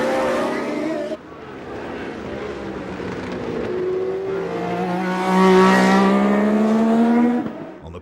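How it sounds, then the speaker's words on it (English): 1980 Formula One race cars heard as a loud, sustained engine whine rising in pitch as a car accelerates and passes, with a commentator talking over it. "Jones passed Jabouille and moved into 2nd place"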